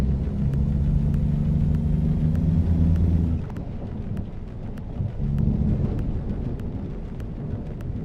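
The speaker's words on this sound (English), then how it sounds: "Raining a lot here." Heavy rain drums steadily on a truck in a driving video game, a broad continuous wash layered over a low engine rumble that drops in level partway through, with no voices.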